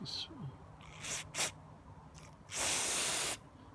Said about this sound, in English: as I'm spraying everything behind me